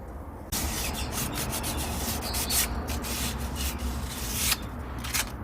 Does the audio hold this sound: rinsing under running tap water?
no